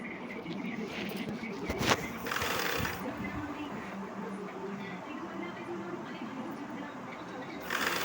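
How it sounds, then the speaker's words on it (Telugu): Sewing machine stitching the lining of a blouse neck, producing a quiet, steady mechanical whir that runs throughout, with faint background noises around it. "ఇలాగా లాగి కుట్టు వేసేస్తున్నాను"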